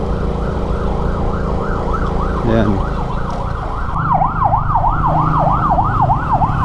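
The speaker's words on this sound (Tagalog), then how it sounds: "May ambulansya, gilid tayo." An ambulance siren wails loudly in rapid repeating sweeps as it passes along the road, heard from a Suzuki Smash 115R motorcycle over steady engine and road noise. The siren grows stronger and quicker toward the end, and a voice briefly speaks.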